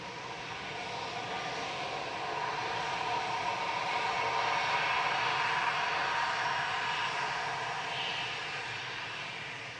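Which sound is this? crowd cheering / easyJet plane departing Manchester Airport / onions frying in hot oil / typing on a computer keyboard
easyJet plane departing Manchester Airport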